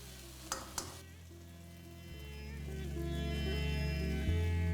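Cooked rice being stir-fried for vegetable fried rice in a pan with soy sauce and vinegar, a steady close sizzle with a couple of sharp scrapes near the start and no talking.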